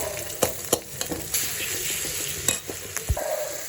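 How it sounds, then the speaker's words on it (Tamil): Sliced onions fry with a green chilli and ginger garlic paste in a pan, a continuous close sizzle broken by several sharp scrapes and clacks of a spoon stirring against the metal. "வெங்காயம் போடணும், நல்லா வேகட்டும்."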